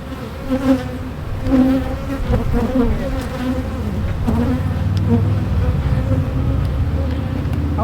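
Honeybees buzz around a hive and swarm trap, a loud, close, continuous droning hum with individual bees swelling and fading as they fly past.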